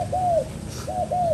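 Imported Malaysian male spotted doves give clear, repeated cooing calls up close, three smooth rising-and-falling notes over a low steady background hum.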